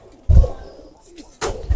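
An old Ababeel breed pigeon coos close by in a few short, throaty bursts separated by brief quiet gaps.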